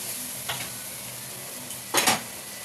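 Soybean chunks browning in a pan, with two short spatula scrapes against the metal over a faint, steady background sizzle; no voices.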